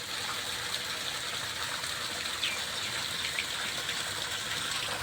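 Water gushing and flooding into a house in the morning, a steady loud rushing hiss of flowing water, continuous and close with no talking.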